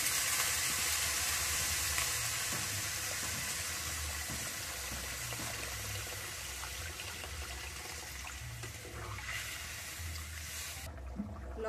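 Water poured onto sizzling potato masala in a pan for egg curry, a steady rushing hiss and bubbling sizzle that holds for several seconds, fading slightly near the end, with no talk.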